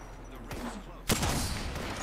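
Rapid gunfire in the Apex Legends video game on Xbox, a short close burst of shots that swells into a loud crack and rumbling spray.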